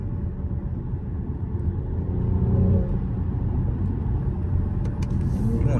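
Mercedes-AMG GLE 53 engine at night, a steady low rumble from inside the car with rising and falling revs as it downshifts, continuous and fairly loud throughout with no talk.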